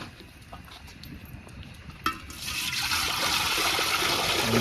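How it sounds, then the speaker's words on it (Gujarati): Water pours into a metal cooking pot set on a lit village stove, a steady rushing stream that swells louder and holds after a sharp clink partway through. "હવે અંદર પાણી વેરી દઈશું આપણે."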